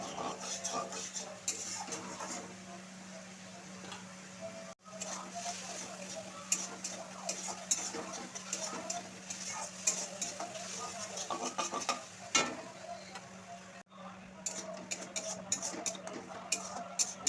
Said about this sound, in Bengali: জল আর মশলাটা ভালো করে মিশিয়ে নিয়ে কষিয়ে নিচ্ছি।